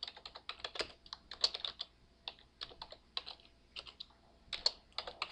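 Someone typing on a computer keyboard in a graphics design program, with steady irregular clusters of close, crisp key clicks and short pauses between words, no talking.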